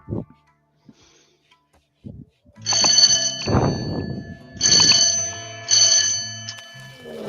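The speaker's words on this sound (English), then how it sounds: "It's like a old school phone. It's so loud." An old-school telephone rings loudly in a room, its harsh metallic bell sounding in three separate bursts with short gaps between them and low background noise in between.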